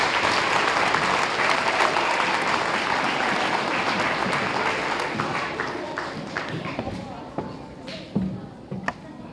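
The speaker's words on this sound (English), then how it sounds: "Can you give yourselves a nice round of applause?" A school audience claps in sustained, dense applause that fills the space loudly, then thins out toward the end into scattered claps.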